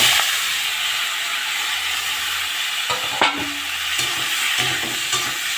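Chopped bitter gourd, onion, potato and eggplant frying in fish oil, a loud continuous hiss with occasional scraping clatters from stirring.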